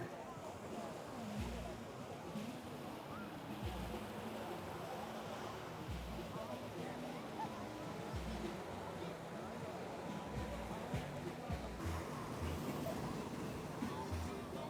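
Surf breaking on a rocky beach in Costa Rica, a steady broadband wash of waves with wind noise on the microphone, continuous and fairly close throughout.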